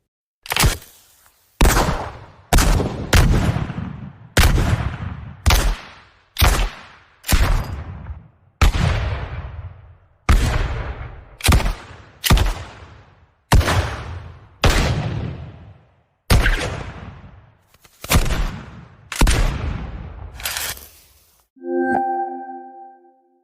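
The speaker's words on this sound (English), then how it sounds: "a collection of 19th century firearm sounds from classic Wild West-style weapons, including revolvers, rifles, and carbines" Nineteenth-century black powder revolvers, rifles and carbines fire about seventeen loud, separate shots one after another, each a sharp crack with a decaying tail, in a steady uneven rhythm with short gaps, ending in a brief tonal ring.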